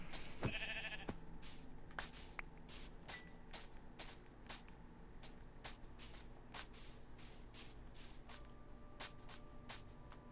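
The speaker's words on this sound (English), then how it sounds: "Sheep!" Sheep bleating in the Minecraft survival video game, a short cry near the start among repeated sharp clicking and tapping game sounds over a steady background hum.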